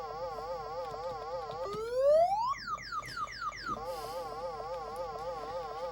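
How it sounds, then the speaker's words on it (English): An electronic warbling tone from the computer game Pac-Mania cycles rapidly up and down like a cheap car alarm, broken by a run of rising synthetic sweeps before the warble resumes. "Sounds like someone set a cheap 90s car alarm off."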